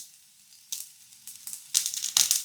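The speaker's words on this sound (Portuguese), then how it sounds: "Um pouco de óleo, refogar a acelga." Chard hits hot oil in a pan, faint at first and then crackling in a few sharper sizzling bursts that build toward the end, close by with no talk.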